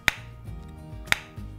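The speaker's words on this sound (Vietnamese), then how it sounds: "Đây là tiếng đóng nắp của CX400BT này." The lid of a Sennheiser CX 400BT earbud charging case snaps shut, giving two sharp, close plastic clicks about a second apart over a faint low hum.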